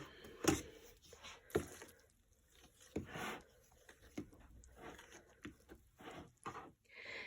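A spoon stirs a thick, sticky flour and water batter in a bowl, with repeated soft squishing scrapes and taps at an uneven rhythm.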